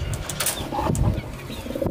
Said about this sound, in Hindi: कबूतर देखिएगा